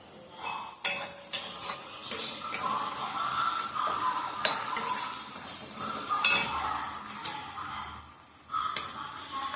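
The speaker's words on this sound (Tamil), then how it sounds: "உடனே நம்ம தக்காளி போட்டு வதக்க வேண்டியதான்." Tomatoes sauté in a pan while a utensil stirs and scrapes, making a soft, continuous sizzle with intermittent clinks of metal on the pan and no one talking.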